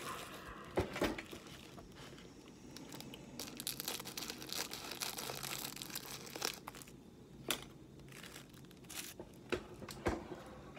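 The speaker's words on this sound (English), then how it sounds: "I just cut this top off with scissors." Scissors cut open the top of a Toast 'em Pop-Ups Frosted Cookies & Créme foil package, with irregular crinkling and crunching of the wrapper, several louder sharp snips and rustles standing out over quieter handling noise.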